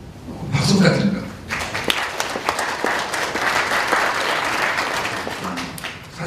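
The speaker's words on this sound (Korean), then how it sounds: "박수 부탁드립니다." Audience applause at a gathering of young farm successors in Korea, welcoming a coaching consultancy head as he stands; dense clapping builds after a brief opening murmur and holds steady and loud throughout.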